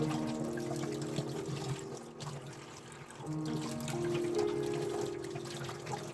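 Tap water runs steadily into a sink while fish are washed, a continuous close splashing and trickling with slight shifts in flow and no voices.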